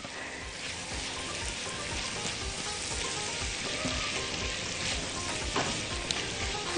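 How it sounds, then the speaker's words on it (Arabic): Sausages sizzling as they are stir-fried in a pan with onions, a steady close crackle and hiss throughout with occasional scraping stirs, no voices. "هنزل بالسوسيس الاول واشوحه"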